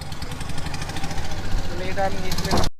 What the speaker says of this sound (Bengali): আমাদের নৌকা কিন্তু অলরেডি ছেড়ে দিছে, নৌকা অলরেডি রানিং